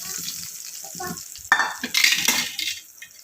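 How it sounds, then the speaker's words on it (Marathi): Hot cumin-mustard tempering with curry leaves is poured into coconut chutney, giving a sudden close sizzle and crackle with metal spoon clinks and stirring. "तर ही फोडणी चटणीमध्ये ओतून घेते मी।"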